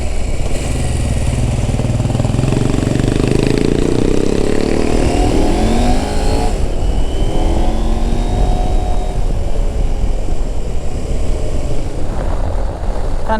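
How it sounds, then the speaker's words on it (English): A 2021 KTM 890 Adventure R big-twin engine pulls steadily under load, a loud continuous drone with smoothly rising and falling tones, close and alone with no talk. "This engine's beautiful for people who are a bit lazy. Just pulls from nothing and consistent right through the rev range."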